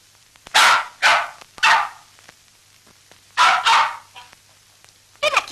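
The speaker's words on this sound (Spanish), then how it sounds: "¿Qué es esto? ¿Un perro?" A small dog in a 1940 film scene barks in sharp, close yaps: three quick barks, a pause, then two more and a brief final yip.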